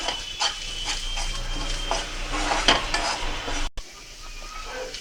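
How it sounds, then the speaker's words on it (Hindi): A spoon works through a spiced mashed potato filling for mirchi vada with chili powder, garam masala and chat masala, giving close, continuous scraping and clinking against a bowl, with a brief sharp cutoff near the end. "इसे अच्छे से मिक्स कर लेंगे।"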